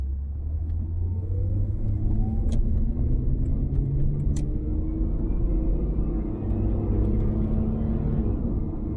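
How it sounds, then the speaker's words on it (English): A Chevrolet Corvair drives up State Highway 2 in New Zealand. Its engine gives a continuous low rumble, close and steady, with gentle rises in pitch as it pulls up the road. "Now just about to start driving up the road where I broke down in the Chevrolet Corvair."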